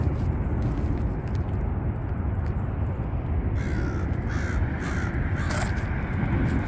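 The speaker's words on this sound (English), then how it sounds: "Crows are always crowing at me." Several harsh caws from crows ring out in the latter half, heard over a loud steady roar of nearby traffic or wind outdoors in Albuquerque.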